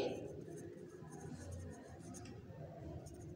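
Chalk or marker scratching across a classroom board during a math lesson on sets, faint and close with short strokes, under a low room background.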